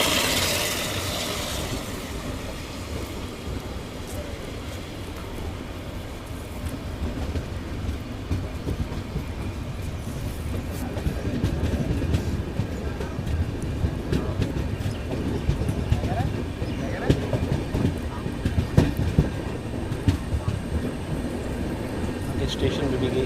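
Dehradun Express from Subedarganj rolling along the rails through heavy rain, a steady broadband rumble and rattle that swells slightly in the second half, with rain hiss layered over it; brief voices occur near the start.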